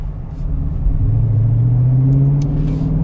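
A 2021 Dodge Charger Scat Pack's 6.4-liter V8 holds a deep, steady rumble close by, its tone rising gradually as the revs climb, with no talk over it.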